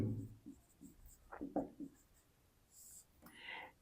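A pen scratches across paper while math working is written out, in short, quiet, separate strokes with pauses between them, faint and close, with a soft breathy murmur at times.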